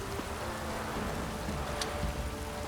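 Steady rain falls in the video game The Witcher 3: Wild Hunt, a constant, even hiss of downpour filling the whole stretch, with no speech.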